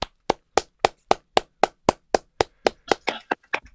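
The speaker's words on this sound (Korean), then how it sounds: "정말 다시 한번 큰 박수 부탁드리겠습니다." Evenly spaced sharp claps ring out one after another, about fourteen in under four seconds, loud and dry with no voices. They sound more like one steady clapper than a broad audience.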